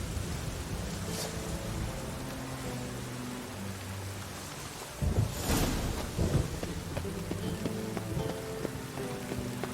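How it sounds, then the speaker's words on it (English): Rain falls in the video game The Witcher 3: Wild Hunt as a soft, steady patter with faint rumbles and a brief louder swell in the middle. "Call this rain?"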